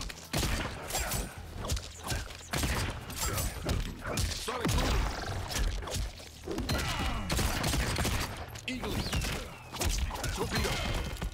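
Peacemaker's combo attacks in the Mortal Kombat 1 fighting video game: a dense, continuous barrage of punchy hits, thuds, gunshot-like bursts, crashes and mechanical effects, loud and busy throughout with no pauses.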